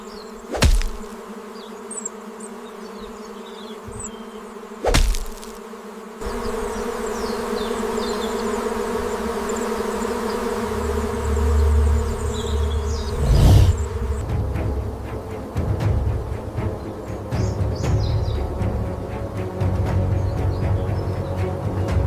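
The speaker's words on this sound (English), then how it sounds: "the relentless African honey-bee colony is closing in fast" A dense, steady insect buzz of a large African honeybee swarm persists throughout, with a low rumbling undertone and a couple of sharp knocks early on.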